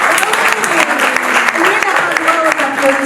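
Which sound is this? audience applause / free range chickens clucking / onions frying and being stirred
audience applause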